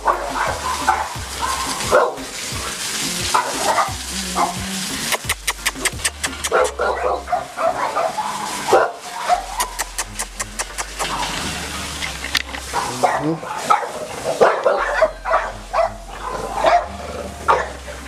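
French bulldogs bark in an indoor breeding kennel, a steady run of yips and barks from several dogs overlapping one another close by, with a quick burst of rapid barking in the middle and some faint talk underneath.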